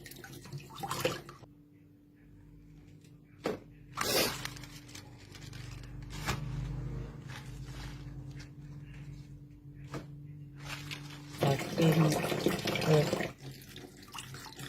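Tap water runs into a sink in bursts while vegetable leaves are washed one by one, with clatters and handling noises between the splashes, recorded fairly quietly.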